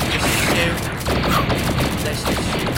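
Rapid bursts of shotgun fire in Factorio, dense, loud and sustained over nearly three seconds with clattering mechanical crackle between the blasts.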